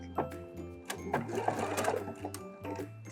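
Sewing machine running a zigzag stitch over torn lace on clothing, in several short bursts separated by brief pauses, close and clear with a voice talking over it.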